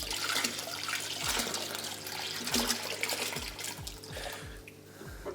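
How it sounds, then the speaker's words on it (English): Angelfish poured along with their water into an 8 ft planted aquarium, giving a steady close splashing and gurgling pour with a few brief low bumps, with no talking. "I'm just gonna pour them straight in."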